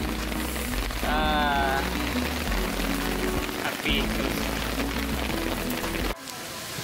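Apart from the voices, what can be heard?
heavy rain on a mountain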